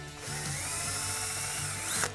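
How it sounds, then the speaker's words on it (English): A power drill whirs steadily, pre-drilling pilot holes for a door pull on flat track barn door hardware, running continuously at close range with a brief rise in speed just before it stops. "I'll pre-drill"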